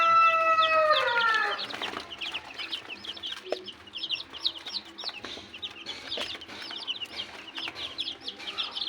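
Three-day-old chicks cluck and peep busily in a steady stream of short calls, after a brief stretch of a louder crowing-like call at the start.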